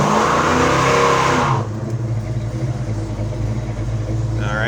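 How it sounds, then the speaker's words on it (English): A 1969 Chevrolet Chevelle SS revs hard as its tires are warmed up, a loud roaring sweep that cuts off sharply, leaving a lower steady engine rumble up close. "Let's warm the tires up a little bit."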